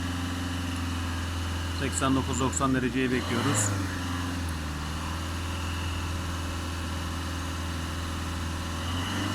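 A Fiat Doblo 1.3 Multijet diesel engine idles, not yet fully warmed up, with a steady low hum throughout, and a person talks briefly over it near the start.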